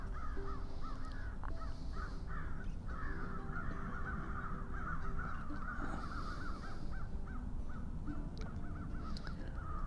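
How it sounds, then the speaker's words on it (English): Several crows caw over and over, harsh calls overlapping in bursts against a steady low background rumble. "We got a murder of crows over here,"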